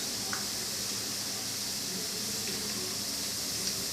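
Kara boondi with curry leaves sizzling in hot oil, a steady broadband frying hiss running the whole time with faint crackles and pops, close and even in level.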